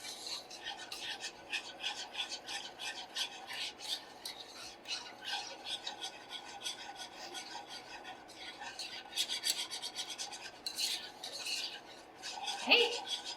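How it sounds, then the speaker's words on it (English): Milk is being whisked into a mixture in a pan, making a fast, continuous rhythmic scraping and rasping close by, with a sharper clink near the end. "So we're just gonna whisk the milk in."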